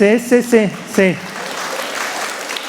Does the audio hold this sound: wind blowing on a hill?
no